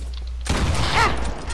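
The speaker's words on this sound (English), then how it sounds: "Oh, I actually hit my hand cannon shot." After a brief quiet moment, a single heavy hand cannon gunshot in a video game booms out close and loud, its echo rolling off over the next second.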